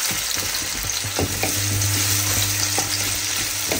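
Onion and garlic frying in hot oil for egg fried rice, a steady close sizzle with soft stirring clicks and a low hum underneath, no talking.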